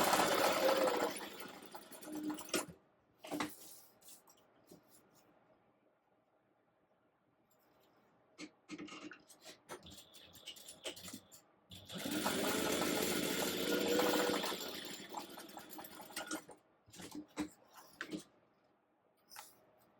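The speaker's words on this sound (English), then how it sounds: "you will stitch right down these 2-inch lines that you drew away from the top stitched pieces" A sewing machine stitches bag pieces together in two sustained runs of close, steady whirring, separated by quieter clicks and handling noises.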